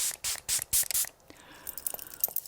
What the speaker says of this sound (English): We're gonna do one more round of setting spray